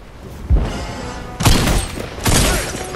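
Three loud bursts of gunfire from henchmen in a video game, each a sharp boom followed by a short crackling volley, spaced about a second apart with no talk.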